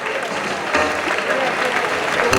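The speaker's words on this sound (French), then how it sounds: "Monsieur Lionel Espitalier, qu'on peut applaudir très très fort" Concert audience applauding a trumpet soloist, dense continuous clapping throughout, with a voice talking over it.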